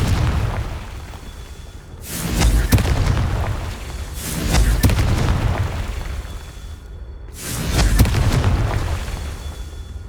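Blasting-spell explosions in the wizarding video game Hogwarts Legacy: three heavy booms with a deep low-end thump, each followed by a rolling, crackling rumble, over continuous game ambience.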